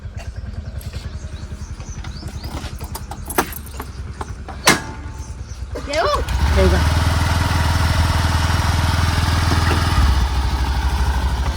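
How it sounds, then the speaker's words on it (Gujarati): A Honda Activa scooter engine starts partway through and settles into a steady, close idle hum after some earlier handling noises and brief talk. "ચાલુ કરો એક્ટિવા."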